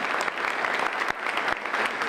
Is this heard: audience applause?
yes